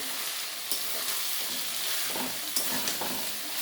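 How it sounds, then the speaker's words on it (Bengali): Potatoes tossed into chicken frying in hot oil in a pan, producing a steady, close sizzle with occasional scraping stir sounds throughout. "এবার আমি আলুগুলো দিয়ে দেব"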